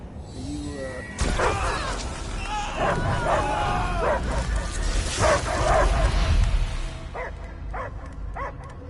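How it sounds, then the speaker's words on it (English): Dogs bark and yip in the Guardians of the Galaxy video game, a loud, continuous run of barks over a busy mix of game sound and voices, thinning into a few separate yelps near the end. "I hear only barking."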